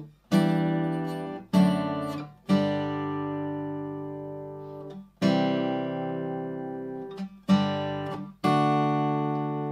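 Acoustic-style guitar chords strummed one at a time, each left to ring and fade before the next, moving slowly from C to G5 to D.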